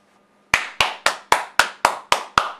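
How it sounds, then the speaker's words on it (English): Eight sharp, evenly spaced hand claps from a single person, close and loud, ringing in a quiet room on a home cooking show. "We need the clapping."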